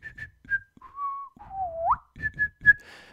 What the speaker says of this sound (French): j'ai toujours tendance à siffler quand je fais comme si de rien n'était.